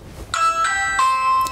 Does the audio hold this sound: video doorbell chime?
yes